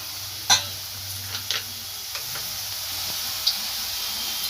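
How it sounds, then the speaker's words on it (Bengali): Whole spices crackle and sizzle gently in hot oil: a bay leaf, a cinnamon stick, two cloves and four small cardamom pods, with a few sharp pops and ticks over a faint steady hiss. "এবার ওই তেলের মধ্যেই রান্নাটা করে নেব একটা তেজপাতা একটা দারচিনি স্টিক দুটো লবঙ্গ আর চারটে ছোটো এলাচ"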